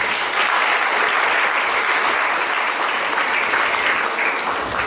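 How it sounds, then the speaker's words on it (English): Wedding reception guests break into loud, sustained applause, a dense wash of many hands clapping close and steady for several seconds without letting up. "And I think she deserves a round of applause again"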